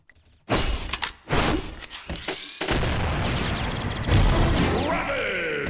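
Bombs go off in a ghost-hunting shooter match, with a run of loud, sustained crashing blasts and shattering debris that roll on for several seconds after a couple of sharp thuds.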